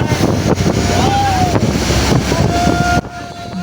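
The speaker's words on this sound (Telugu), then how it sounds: "పారాషూట్ అయితే బాగా పైకి వెళ్ళడానికి బోట్ అయితే చాలా స్పీడ్తో వెళ్తుంది" A speedboat towing a parasail across the Arabian Sea off Nagoa beach in Diu, with a constant engine drone, water rushing past and wind buffeting a nearby microphone, broken by an abrupt change near the end.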